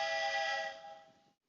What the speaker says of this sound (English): That sound you just heard was me getting a text message notifying me that either someone called in tardy or late.